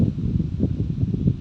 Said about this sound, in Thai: ลมยังแรงอยู่เลยนะครับ